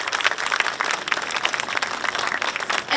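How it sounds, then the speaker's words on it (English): Audience applause at an outdoor commemorative ceremony for a comfort women memorial statue, given to a musician: steady, dense clapping from a crowd, sustained and fairly close for the whole stretch. "How about another big round of applause for this wonderful musician"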